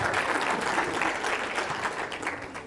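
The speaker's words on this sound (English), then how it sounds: "round of applause for that, please" Brief, steady audience applause at a business seminar: a dense patter of many hands clapping at moderate volume that fades slightly at the end.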